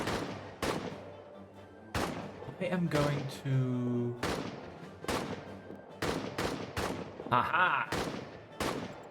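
Enemy gunfire in a hardcore trench warfare video game comes as sharp, loud shots in irregular bursts and single cracks. Someone talks briefly between the shots.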